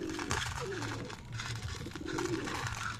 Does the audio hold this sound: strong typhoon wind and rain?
no